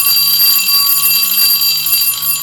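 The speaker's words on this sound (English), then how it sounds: "Well, that's the bell." An electric school bell rings continuously and loudly throughout, a steady bright metallic ringing with no pauses and no talk over it.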